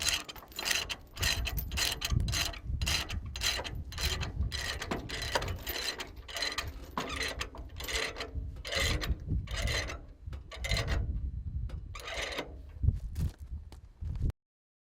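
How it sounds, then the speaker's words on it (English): A ratchet load binder is worked to chain a crawler dozer to a trailer, repeated close metallic ratcheting clicks and clanks in an uneven rhythm, with no talk. "Fasten each corner of the machine to the trailer with a chain or cable with appropriate load binder."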